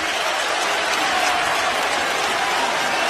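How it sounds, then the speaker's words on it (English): A St. John's home crowd roars during an NCAA March Madness basketball game against Omaha, a loud, sustained wash of cheering and applause filling the arena throughout. "St. John's crowd getting vocal."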